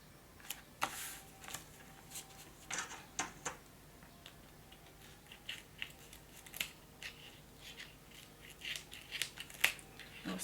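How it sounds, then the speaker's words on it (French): Scissors snip repeatedly at double-sided tape, the blades gummed with glue, giving sharp irregular close-up cuts with quiet pauses between them in a calm indoor space. "C'est une paire de ciseaux qui sert qu'à couper le double face"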